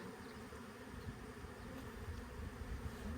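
Honeybees buzz around their hives in a steady, faint hum, a dense swarm droning continuously without a break.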